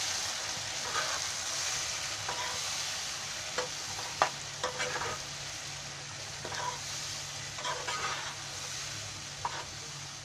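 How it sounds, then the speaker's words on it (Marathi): Spices for chicken biryani sizzle in a pan, a steady frying hiss interrupted by intermittent scraping and clinking as they are stirred, heard close and without talking. "हे सर्व टाकून झालं की असं हलवायचं."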